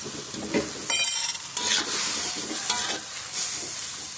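Water spinach (kangkung) cooks in a pan with oil, water, seasoning, salt and a couple drops of sauce, giving a steady close sizzle and bubbling hiss with several bursts of stirring scrapes, no voices.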